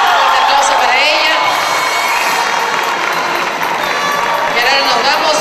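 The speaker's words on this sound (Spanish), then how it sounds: "Un aplauso para ella." At a carnival queen pageant, the audience erupts in loud cheering, whooping and high-pitched shouting, with scattered clapping underneath and a continuous roar of many voices.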